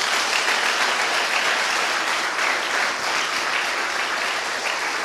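A church congregation claps continuously during a family worship service, a dense, even roar of many hands that holds steady throughout, filling the room without voices standing out.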